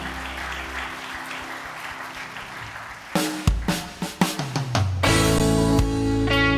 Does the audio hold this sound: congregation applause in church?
yes